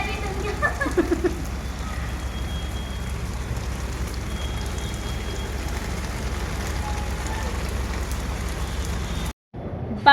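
Steady rain falls outdoors during the bathing of a statue, a dense, even hiss of drops on surfaces that lasts nearly the whole time, with a few faint voices and a sudden cut near the end.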